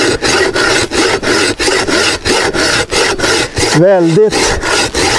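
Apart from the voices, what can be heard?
two people sawing wood with hand saws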